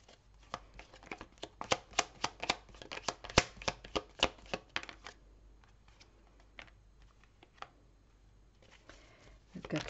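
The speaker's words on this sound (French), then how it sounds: "je vais tirer les cartes et je vous ferai lecture ensuite" Oracle cards are shuffled by hand in a rapid run of crisp riffling flicks, close and distinct, then sparser taps and a final burst of card rustling.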